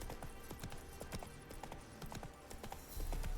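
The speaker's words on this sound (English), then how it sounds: "Spooking my horse." Hooves of the horse Roach galloping in The Witcher 3: a quick, rhythmic clip-clop of hoofbeats at close range throughout, over low ambient game sound, quiet overall and without voices.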